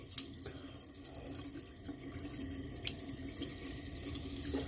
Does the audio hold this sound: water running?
yes